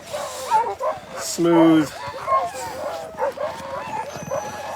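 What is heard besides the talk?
sled dogs barking at a race start chute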